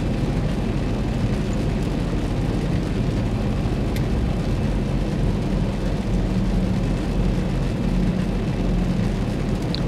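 Steady, loud low rumble of a Boeing 737-900 on a stormy landing approach in the X-Plane 11 flight simulator, a continuous engine and wind roar with no talk.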